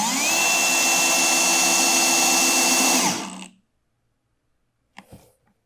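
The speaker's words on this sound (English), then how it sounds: "we're gonna drive our fastener" A clutch-set drill driver drives a screw into wood without lubrication, making a loud, close motor whine with a rising pitch that runs for about three seconds. It stops abruptly when the clutch engages, followed by silence and a brief faint knock.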